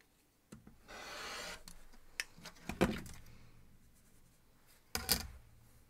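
Quilt fabric for a 9-inch Air Castle block being cut diagonally in half, heard as a rough sustained rasp of blade through cloth followed by several sharp clicks and taps of tools or a ruler, fairly quiet and free of talk.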